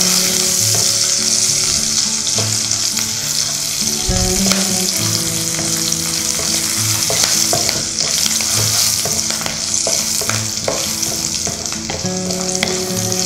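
Cashews fry in a pan with a steady, dense sizzle for a vegetable pulao, broken by regular stirring clatters of a spoon against the pan.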